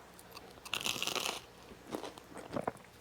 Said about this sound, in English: So you obviously heard that big crunch.